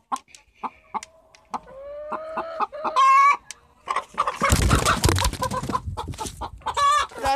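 Hens on a poultry farm cluck in a run of short close calls, with one louder squawking burst midway and a busier stretch of overlapping clucks and rustling toward the end.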